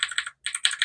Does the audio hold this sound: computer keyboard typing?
yes